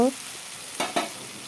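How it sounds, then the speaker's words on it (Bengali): Eggs are sautéed in a cooked spice masala, giving a steady sizzling hiss, with two brief louder scraping stirs. "এখন ডিমগুলোকে ঢেলে দেব দিয়ে তারপর আবার কিছু সময় কষিয়ে নেব"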